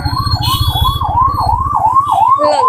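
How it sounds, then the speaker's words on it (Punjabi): A loud ambulance siren wails close by at a religious fair in rapid rising and falling sweeps, with a low vehicle rumble beneath it. "ਐਂਬੂਲੈਂਸ"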